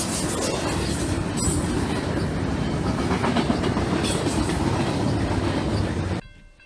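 Railroad locomotive 4758, a light blue flared unit with an extended back, rumbles past close by with loud rolling wheels and clattering rail joints, the roar cutting off abruptly near the end.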